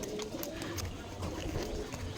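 Pigeons coo in low, soft murmurs over a steady rustling background on a rooftop where they are kept, with no voices.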